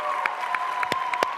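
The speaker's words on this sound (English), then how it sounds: "Please give them a round of applause." An audience at the NAHA 2025 show applauds a production team, a steady wash of clapping with a few sharper nearby claps standing out, no talk over it.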